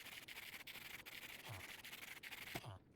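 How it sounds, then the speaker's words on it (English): Sandpaper rubbing to polish rose quartz in modded Minecraft gives a faint, soft, steady scraping and rubbing texture with a few short scratch strokes. "if I put the sandpaper in my offhand, I can shine up the rose quartz"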